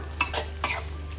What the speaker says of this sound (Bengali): ভিউয়ার্স আমি 1 মিনিটের মতো তেঁতুলের মাঠটা দেওয়ার পরে একটু নাড়াচাড়া দিলাম